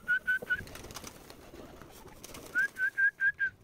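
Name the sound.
birds calling in the afternoon near pigeon coop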